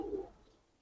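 One Lalsare pigeon gives a single soft, brief low coo that fades quickly, faint and close against a quiet background.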